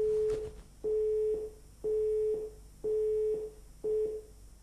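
A telephone busy signal sounds after a dropped call on a live phone-in broadcast: five evenly spaced steady tones with short gaps, loud and clear on its own.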